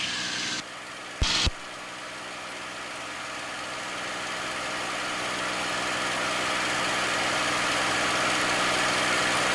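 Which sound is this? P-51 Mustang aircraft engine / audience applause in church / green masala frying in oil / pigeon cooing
P-51 Mustang aircraft engine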